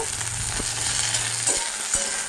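Dried red chillies fry in a pan while being stirred, making a steady close sizzle with a few spatula knocks and scrapes and no voices.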